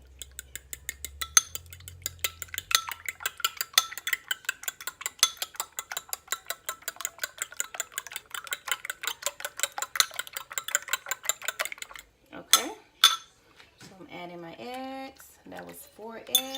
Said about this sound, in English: So I have my 4 eggs. I'm just gonna slightly beat them.